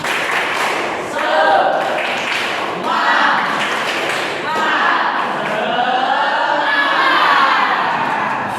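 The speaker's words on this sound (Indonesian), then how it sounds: "sebelum kita belajar, tepuk semangat dulu" A class of students at an Islamic junior high school performs a patterned spirit clap, loud, dense hand clapping and thumping in rhythmic bursts, with crowd voices and chanting mixed throughout.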